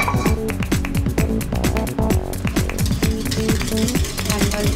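A whisk beating milk into an egg mixture for vanilla ice cream, fast rhythmic clinks and scrapes against the bowl repeating steadily and close up.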